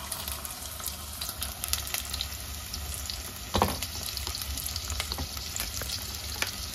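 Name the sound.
chicken wings deep frying in oil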